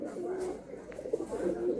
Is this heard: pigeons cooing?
yes